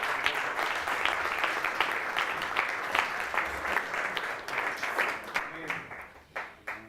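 A church crowd at a men's convention applauds loudly and steadily, the clapping thinning into scattered claps toward the end.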